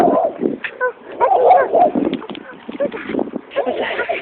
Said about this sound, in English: A doggy.